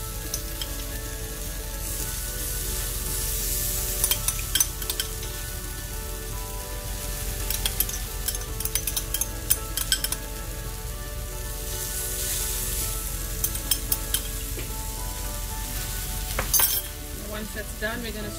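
Cheese dosa topped with trout curry sizzling steadily on a hot pan, a continuous close crackle and hiss with occasional light clinks of a utensil.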